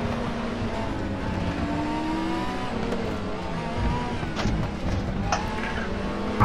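Race car engine roaring steadily in an online racing game, with a turbo boost whine rising over continuous engine drone and brief sharp spikes near the end.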